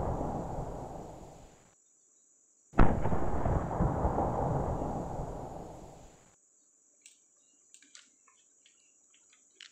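An FN F2000 WOG airsoft gun fires two loud bursts of rushing, crackling discharge, the first fading out and the second starting sharply after a short silence, followed by faint small mechanical clicks against a steady high whine.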